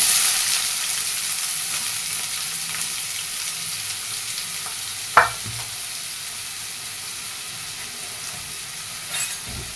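Onions fry in a pan with an even, continuous sizzle close by, steady and fairly quiet, with one sharp knock midway and a faint clatter near the end; no voices.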